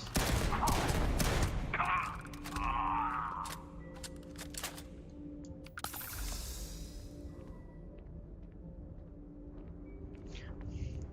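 Shotgun blasts in Starfield: Shattered Space, a quick burst of loud shots at the start followed by a single sharp blast midway, then quieter mechanical game ambience with a voice talking.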